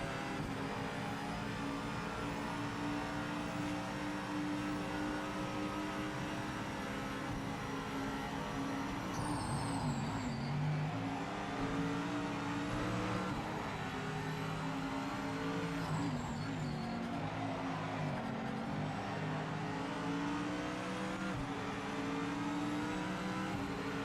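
Porsche race car in the racing video game Project Motor Racing, a steady engine drone with shifting revs running continuously throughout, close and loud, with other cars audible around it and no speech.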